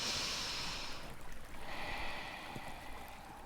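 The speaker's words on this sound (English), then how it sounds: "and breathe" Slow, deep breaths during a yoga flow class come through close and breathy, a long airy exhale fading and then a second soft breath following, with no talk.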